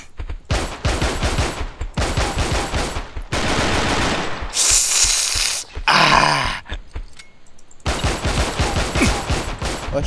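Pistol fire in a video game duel: rapid bursts of shots crowd most of the stretch, loud and up close, with a brief hissing pause in the middle and another dense volley at the end.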